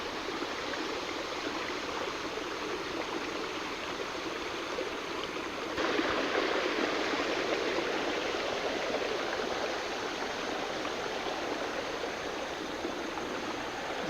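Creek water flows in a steady, even rush with a constant broadband wash that gets slightly louder partway through, with no voices.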